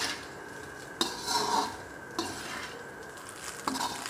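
Schezwan egg fried rice stirred in a pan, with a few spoon or spatula scrapes against the metal at intervals over a soft, steady background hiss; no talking.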